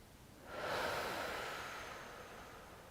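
A single slow, airy inhale swells and then gradually fades, close and soft, during a guided breathing exercise, with no talking.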